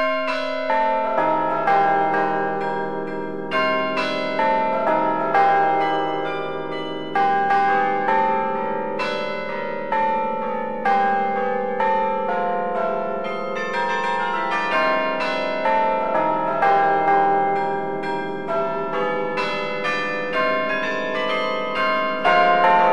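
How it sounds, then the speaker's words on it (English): Bells in a campus bell tower at UC Berkeley ring out a steady melodic sequence of clear, resonant struck notes, each blooming and overlapping with lingering hum, sustained for over twenty seconds without any voices. "The bells chime every hour, and a short concert is played 3 times a day"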